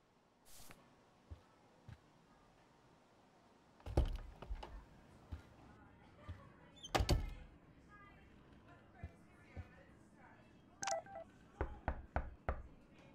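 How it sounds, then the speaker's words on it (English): Knocking on a door in the video game Life is Change comes as sparse, sharp raps spread through a quiet room, with a quicker cluster of knocks toward the end, close and fairly faint. "Why are we knocking on her door?"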